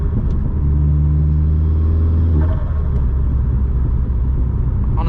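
A Vauxhall Astra VXR's engine drones loud and steady while driving at night, a low rumble with a sustained tone that shifts pitch partway through, continuous road noise throughout and no talking.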